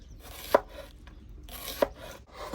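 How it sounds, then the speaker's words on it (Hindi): Knife chopping onions on a board for a village breakfast salad, two distinct sharp chops about a second apart, close and clear with a soft rubbing between, no talking. "हम जल्दी से प्याज की कटिंग कर लेते हैं।"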